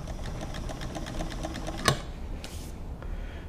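A White 1044 sewing machine runs a straight stitch with a steady rapid mechanical whir and needle clatter, broken by one sharp knock, then a brief softer rustle.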